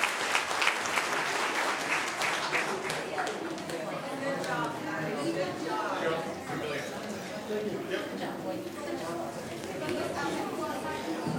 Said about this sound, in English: Let's have a round of applause again for the 2012 Brewers.